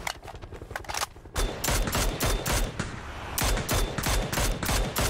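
Rapid bursts of SLR rifle fire in a first-person shooter video game crack out loud and close, a quick volley after a short lull, then repeated sharp shots continuing steadily to the end.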